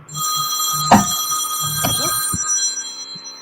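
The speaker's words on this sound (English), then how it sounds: "The buzzing is I'm sorry, that's my phone." A mobile phone rings and buzzes indoors against a steady electronic hum, with brief clattering and a voice murmuring in the background, close and moderately loud.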